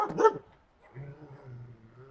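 A dog gives a sharp, close bark at the start, then after a short pause lets out a softer, drawn-out whimper that wavers in pitch until the end.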